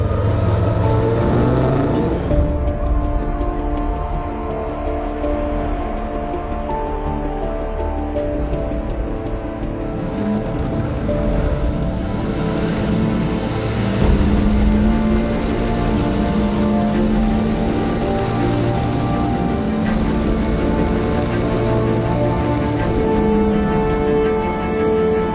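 Racing cars at Spa roar away at the start of a 3h15 endurance race, engines droning loud and continuous with layered pitches, a sustained rising whine standing out midway, and no voices over it.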